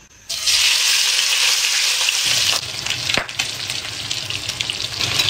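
Food being stir-fried in a hot pan, with a loud steady sizzle that gives way to scraping and tossing while the sizzling continues underneath, plus a brief clatter partway through.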